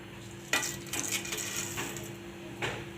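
Tempering seeds dropped into hot oil in a pan for an egg tomato rice dish, giving a sudden scatter of crackles and pops, then a few more sharp spits over a low steady hum.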